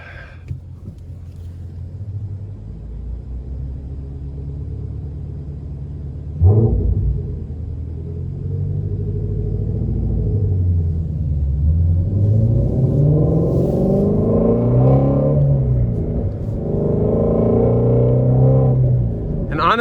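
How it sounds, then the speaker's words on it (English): Exhaust of a 2019 Shelby GT350 with only 800 miles while driving: a deep steady rumble that jumps louder around six seconds, then swells and surges in revving pulls, close and alone without talk. "it does all the talking for you with just the sound of that exhaust"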